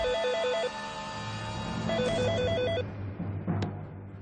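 A telephone rings repeatedly with no answer, a warbling electronic trill in two bursts over a low hum, with a faint clunk near the end.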